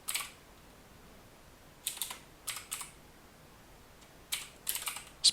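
Keyboard typing on a computer while setting up a Windows Defender registry value: scattered short bursts of keystrokes with pauses in between, close and fairly crisp against a quiet background.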